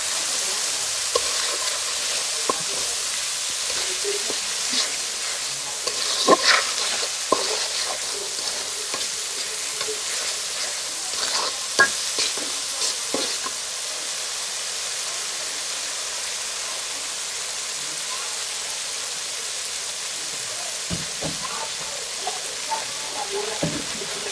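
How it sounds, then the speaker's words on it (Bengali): Spices stir-fried in a pan for a poultry curry sizzle with a constant bright hiss, punctuated by repeated scraping and clinking of a spatula against the metal pan, up close. "এখন দেখো হচ্ছে ভালো করে মশলাগুলি কষাই নিই"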